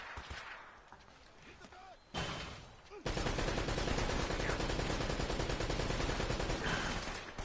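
Rapid gunfire aimed at a rock in the Uncharted video game, opening with sparse quieter shots and a sharp burst, then a dense, loud, sustained volley of shooting that fills the rest of the clip.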